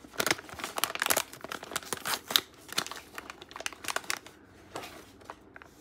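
Foil packaging of a Hirono blind box crinkles and tears close up as it is unboxed, in busy irregular bursts of rustling that thin out toward the end.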